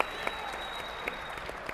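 Steady applause from a convention hall audience at a Magic: The Gathering Commander panel, dense and continuous with a few sharper individual claps standing out, no voices over it.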